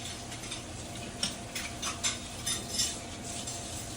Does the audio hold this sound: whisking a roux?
yes